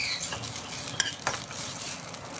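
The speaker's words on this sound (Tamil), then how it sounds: "இப்போ இதை நல்லா கொஞ்சம் நேரம் கிளறிக்கலாம்" Grated coconut stirred and frying in a pan with oil or ghee, a steady close sizzle broken by a few scraping strokes of the spoon, with no voices.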